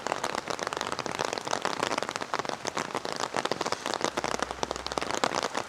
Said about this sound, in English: So I have to apologise for the sound of all the raindrops.